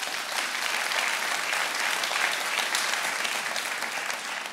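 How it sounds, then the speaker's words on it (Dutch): An audience claps steadily for the unveiling of the new Weyenberg logo at a product introduction, a dense, even wash of applause that swells slightly in the middle and holds without talk. "Daar mag je ook voor klappen, hoor."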